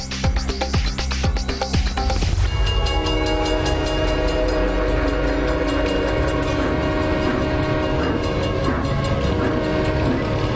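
A train running on a railway track near a house, loud and close, with repeated clattering wheel clicks at first, then a long sustained horn blaring over the steady rumble of passing cars.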